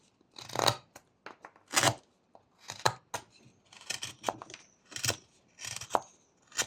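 A whittling knife carves a small wooden fish, making tighter V-cuts in rapid bursts of close, dry shaving scrapes and cuts, each short and separated by brief pauses, with no talk.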